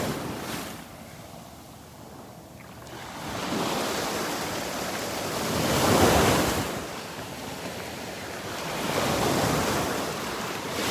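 Strong surf pounds the beach at Delnor-Wiggins, a steady roar of breaking waves swelling and easing in slow surges, with gusty wind buffeting the microphone and no talking.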